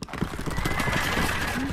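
Horses neigh and gallop in the strategy video game 0 A.D., with whinnies and rapid hoof clatter in a busy battle mix, while someone talks over it.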